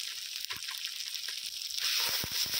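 Spices with turmeric and red chilli powder fry in a pan for a cauliflower-potato curry. A steady close sizzle runs throughout, punctuated by spoon scrapes and clicks, and it grows louder near the end.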